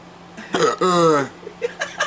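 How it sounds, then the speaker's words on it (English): A person with a persistent bout of hiccups gives one sharp hiccup followed by a longer vocal gulp, close to the microphone, with brief speech-like sounds around it. "I was gonna say something before I got the hiccup."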